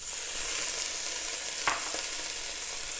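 Zucchini, celery and red pepper sizzle steadily in a pot for a vegetable tagine, a continuous hissing fry with one brief knock of stirring near the middle, no voices.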